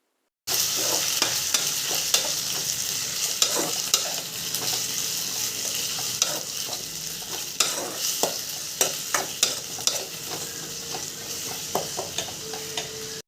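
Two finely chopped ripe tomatoes sautéing in a pan, a steady sizzle and frying hiss broken by frequent scrapes and clicks of a stirring spoon, close and continuous, with no talking.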